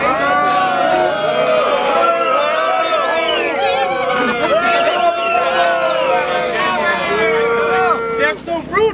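A large crowd at a Rhodesian rally raises a dense, sustained chorus of many overlapping voices, loud and close, holding steady for several seconds before breaking up at the end.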